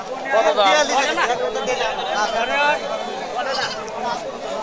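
Native goats bleat among a busy rural goat market in Bangladesh, with crowd chatter and nearby talk running almost continuously over the calls.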